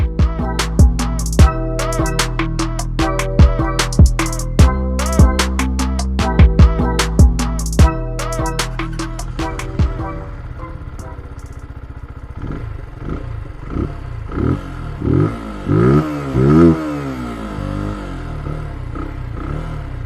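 Rhythmic clattering and engine pulses give way to a Zontes U1 125cc motorcycle engine revving up and pulling away, its pitch rising and falling as it rides.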